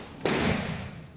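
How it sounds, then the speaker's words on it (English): A single sharp thud as a body lands on a judo mat during a flip fall breakfall, one clean impact followed by a short decaying rumble, close and moderately loud with no talking. "With a flip fall, you leave the floor and you hit it one time."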